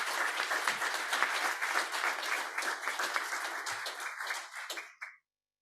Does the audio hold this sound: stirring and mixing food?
no